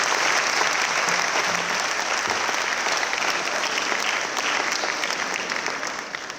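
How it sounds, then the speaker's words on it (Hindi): An audience applauds graduating students at a university convocation ceremony in a large hall. The clapping is thick and continuous throughout and eases slightly toward the end. "हम सब मिलकर उनके लिए तालियां बजाएं"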